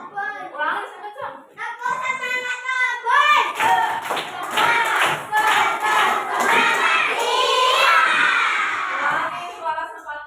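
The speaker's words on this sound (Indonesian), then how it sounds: "kita tepuk semangat kopi dulu" Children doing a rhythmic 'tepuk semangat' clapping chant, bursts of clapping mixed with shouted group chanting after a child's spoken count-in, close and lively.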